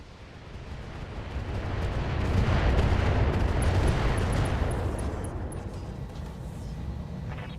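Internal explosions ripple through a battlemech as weapon hits land in the BattleTech game, a dense rumbling roar of booms that swells to a peak mid-clip and slowly fades, loud and alone.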